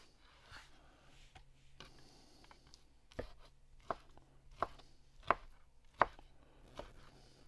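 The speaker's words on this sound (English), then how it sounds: "I just slice them up into bite-sized chunks." A knife slicing meat into bite-sized chunks on a cutting board for a Cajun chicken and andouille gumbo, with several sharp, separated chops growing louder toward the end, close and without talk.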